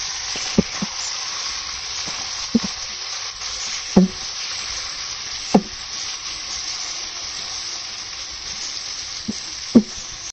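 Tomatoes frying with garlic and ginger masala in a pan: a steady bright sizzle throughout, broken by occasional sharp clinks of a spoon against the pan, loud and close.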